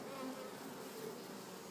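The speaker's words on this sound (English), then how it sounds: "you can see a bunch of bees flying around at the hive trying to get back in the hive" Bees buzzing around a hive fitted with a cone for bee extraction, a dense, steady, faint drone from many insects throughout, with no voices.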